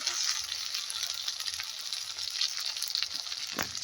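Ginger paste frying with lightly fried grated coconut in a pan for a Bengali radish ghonto gives a continuous, moderately loud sizzle with faint scattered crackles.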